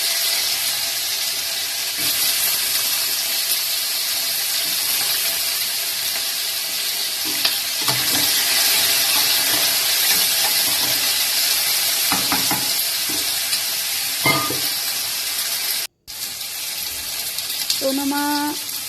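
Potatoes and tomatoes sizzling steadily in a pan at home, a continuous hiss with occasional stirring clatter and brief sounds near the end.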